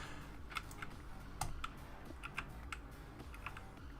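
Fingers type on a mechanical keyboard fitted with Otamu Brown switches, giving quiet, irregular clicks and clacks at a moderate pace from close by, with no one talking.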